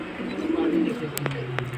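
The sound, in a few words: pigeons cooing in a breeding box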